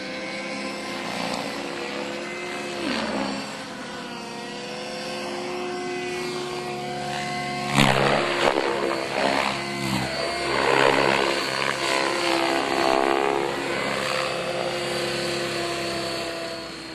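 A flybarred, belt-drive RC model helicopter flies nearby with a loud, continuous high rotor and motor whine whose pitch rises and falls as it climbs and loops, growing louder midway.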